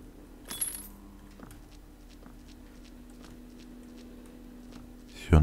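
Keys are picked up in a first-person horror video game, giving a brief metallic jingle near the start over quiet ambient background, with scattered faint clicks after and a louder burst at the end.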